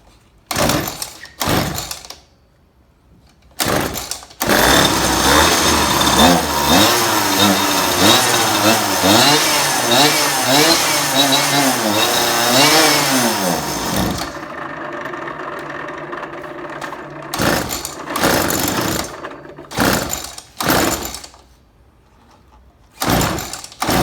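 Small RC go-kart engine running close by as it warms up, a loud buzzing drone with rising and falling revs for about ten seconds, framed by short bursts of mechanical clatter.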